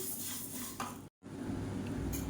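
Horse gram dry-roasts in a pan, a steady dry rattling and scraping as the legumes are stirred, with a short break partway through and no voices.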